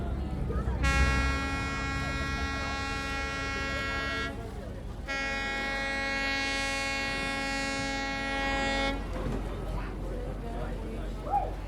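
Two long, sustained tonal blasts from a train horn or whistle at the Magic Kingdom train station, each lasting several seconds, over a low rumble with a short gap between them.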